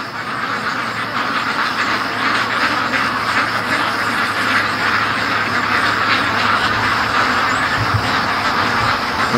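A flock of pet ducks quacks continuously near a creek, a loud, dense, overlapping chorus that holds steady throughout with no pauses.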